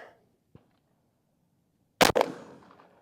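An Umarex Primal 20 gauge airgun shotgun fires a single sharp, loud report with a quick double crack and a short fading tail, preceded by a faint small click in otherwise quiet surroundings.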